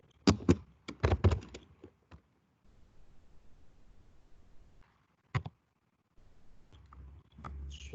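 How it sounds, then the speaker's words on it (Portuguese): Computer keyboard keys clatter in short bursts, a rapid cluster of taps, a pause with faint room hiss, then a few more isolated key strikes, close and fairly crisp with no voices. "Deixa eu digitar aqui o valor"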